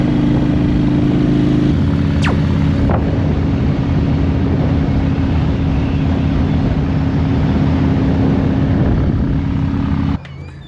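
Motorcycle riding, a loud, continuous engine hum mixed with heavy wind rush at the microphone, the engine note shifting once early on before cutting off abruptly near the end.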